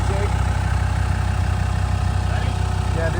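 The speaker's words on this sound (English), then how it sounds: "You can hear it purring a little bit." A performance-tuned 1998 Land Rover Defender 90 Td5 diesel idles with a steady, even low rumble and rhythmic throb, close and continuous, while a person talks over it.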